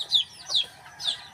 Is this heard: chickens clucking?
yes